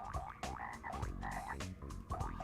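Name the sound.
frog croaking in Frogger video game prototype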